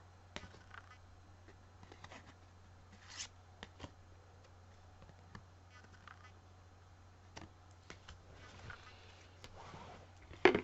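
Oracle cards are handled and shown, producing faint, sparse shuffles, taps and soft card slides scattered across a quiet room with a low hum underneath.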